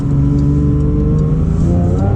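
Porsche 992 GT3 with a naturally aspirated 4.0-litre flat-six accelerating hard; a loud, close engine note climbs steadily through the revs with layered harmonic howl and no voices over it.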